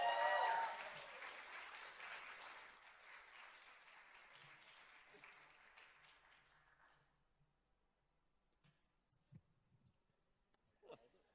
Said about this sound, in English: Please give a massive, massive round of applause for Alex Cusley.